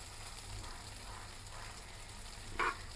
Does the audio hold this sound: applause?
no